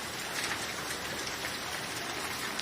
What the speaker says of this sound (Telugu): వర్షం ఉందని బయటకు వెళ్ళలేదు.